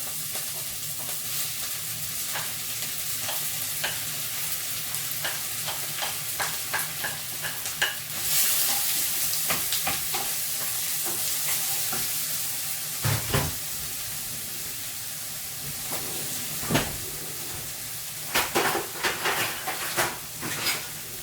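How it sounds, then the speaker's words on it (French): Onions hit hot olive oil in a frying pan and sizzle loudly and steadily for a long stretch, close up, with intermittent spatula scrapes and stirring knocks. "Alors ma poêle était bien chaude, hein. Je vais rajouter mes oignons."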